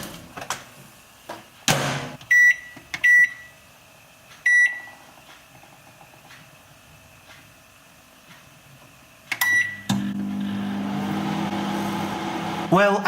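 A microwave oven heating an Asda all day breakfast ready meal: several short button beeps, a thud as the door shuts, then a steady low hum as the oven starts running.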